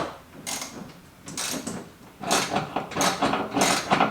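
Socket wrench working bolts loose on a Toyota Tacoma's stock bumper, heard as close bursts of ratcheting clicks and metallic rattles that come in short spells with gaps, growing busier toward the end.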